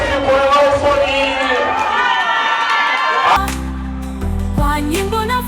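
A crowd cheers and shouts at a festive outdoor event, loud and dense, with a voice calling over it early on, then the cheering cuts off into steady music-like tones.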